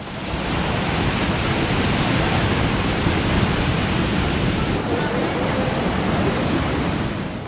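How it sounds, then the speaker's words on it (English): Ocean waves near the westernmost tip of Puerto Rico make a loud, continuous roaring wash that fills the whole stretch without pause, close and heavy, with no clear break between surges. "I am fascinated by the waves here in Puerto Rico"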